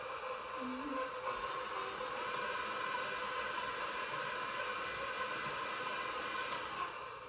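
A stand or hand kitchen mixer whirs steadily throughout, mixing a donut batter of sour cream in a home kitchen, a continuous broadband motor drone at moderate level with no talk over it.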